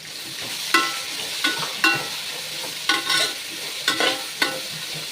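Onions with garlic and salt sauté in a hot pan, giving a steady sizzle punctuated by about seven crisp spatula scrapes and stirs at an uneven rhythm, close and fairly loud, with no talking.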